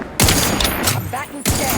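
Rapid bursts of gunfire in The Outer Worlds 2: two sharp, close volleys about a second apart, with a brief rattling tail and a faint game voice underneath.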